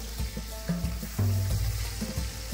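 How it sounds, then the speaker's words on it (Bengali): Rohu fish heads sizzle and spit in hot mustard oil, a close, crackling fry with a few brief clinks and pops over a short moment. "তেলটা গরম হয়ে গেলে মাছের মাথাগুলো ভালোভাবে ভেজে নেব।"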